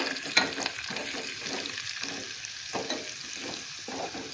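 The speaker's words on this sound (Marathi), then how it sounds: "आता आपण इथे हिंग आणि हळद टाकून घेणार आहोत।" Curry leaves, asafoetida and turmeric crackle and sizzle in hot oil for a tempering for chakulya, a steady close frying hiss with a sharp pop near the start and irregular spatters throughout.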